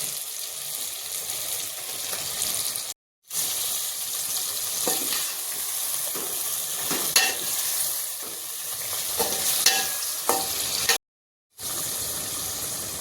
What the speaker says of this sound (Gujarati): તો હવે આપણે એની અંદર આ મચ્છી નાખી દઈએ, ટૂના ફિશ.